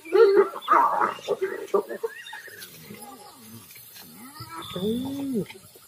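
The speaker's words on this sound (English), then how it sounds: "Hyenas are ripping an impala kill apart." Hyenas squabble over an impala kill they have torn apart, with excited yelps, whines and rising whooping squeals, loud at first and then quieter, with rustling underneath.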